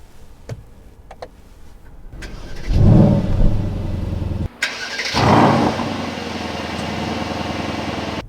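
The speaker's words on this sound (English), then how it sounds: "We will put it into Sport Plus and we will start the engine." A Mercedes GLC 63 AMG in Sport Plus mode cranks and fires up with a loud, deep bark and blip, settles briefly, then revs again before dropping into a steady rumbling idle, heard alone and close.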